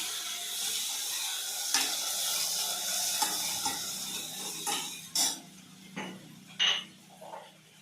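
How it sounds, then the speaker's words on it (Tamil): Onions and curry leaves sauté in a pan, a soft steady sizzle with light stirring, then several distinct clinks and knocks of a utensil against the pan toward the end, no speech. "வெங்காயம் வதக்கிறதுக்கு கொஞ்சம் கருவேப்பிலை போட்டுடலாம்."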